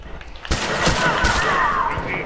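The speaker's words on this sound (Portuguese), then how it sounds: "Dois tiros na cabeça do Zé." A rapid burst of gunfire in The Last of Us Remastered, loud and continuous after a brief quiet start, with sharp cracks layered over a dense rattle.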